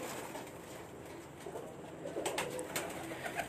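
Pigeons on a rooftop coo in low, soft repeated phrases, fairly close but faint, over a steady outdoor hum with a few light knocks toward the end and no talking.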